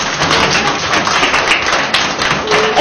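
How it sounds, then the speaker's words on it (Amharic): Warm applause from a room full of children greeting their teacher, a continuous dense patter of small clapping hands that holds steady and fairly close throughout. "ለራሳችሁ ሞቅ ያለ ጭብጨባ።"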